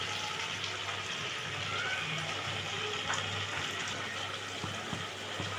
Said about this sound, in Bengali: এবারে বাটি ধোয়া জলটা দিয়ে দিলাম।